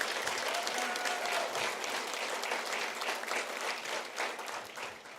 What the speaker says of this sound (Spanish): Yo doy un aplauso al Señor por esos varones y mujeres valientes